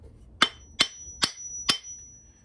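A framing hammer knocks a broken handle out of an axe head: four sharp, ringing metallic strikes at a steady, even pace, close by, with quiet gaps between blows.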